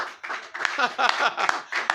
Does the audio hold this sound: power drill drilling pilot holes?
no